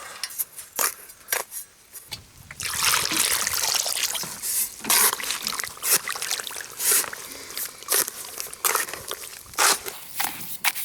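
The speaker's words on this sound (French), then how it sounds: "Je vais rallonger un petit peu à l'eau encore pour bien mélanger" Water is poured and stirred into a plaster-based baseboard adhesive mix, giving wet sloshing, scraping and splashing sounds in irregular bursts close by.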